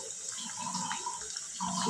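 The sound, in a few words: sweet potato slices bubbling while frying in oil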